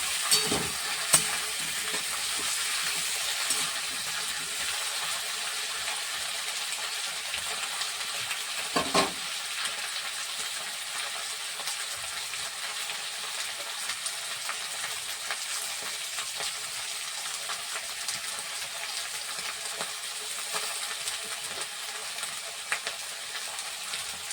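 Onion greens sizzle in hot oil for a tengra fish curry, making a loud, continuous frying hiss close up, with occasional clicks and scrapes from stirring and no talking.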